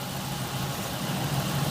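A Ford Expedition engine idles steadily in park, a low, even rumble with a faint knocking texture, constant in level and heard up close with no talk over it.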